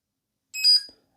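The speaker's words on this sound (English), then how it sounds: "Then you see it beeps and turns off, and it locks itself as well." Yofidra 18V brushless electric pruning shears give a short high electronic beep as they power off and lock, followed by a faint low click, alone and close.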